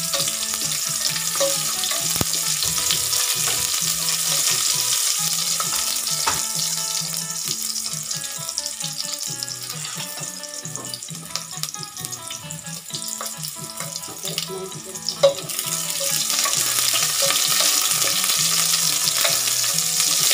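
Onions frying in a pan for egg noodle lomi give a steady, close sizzle, with scraping stirring strokes and a brief clatter near the end, and no voices.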